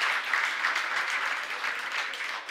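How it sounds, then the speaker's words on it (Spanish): Audience applause at a regional oratory contest in Darién province, Panama, a steady, dense patter of many hands clapping at moderate volume, continuing evenly without voices. "Aplausos para Edison Murillo"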